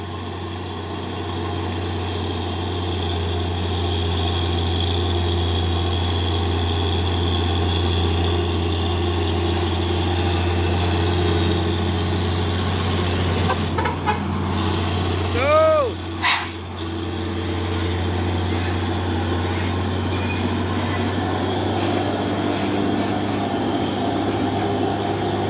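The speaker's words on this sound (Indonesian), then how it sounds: "terlihat jelas 2 unit truk tangki CPO pemain 6x4 HD beriringan menanjak" Two 6x4 HD tanker trucks hauling crude palm oil climb the Bukit Kodok hill on the JL29 road in convoy, giving a steady, loud, low engine drone throughout, with a brief higher whine and clatter near the middle.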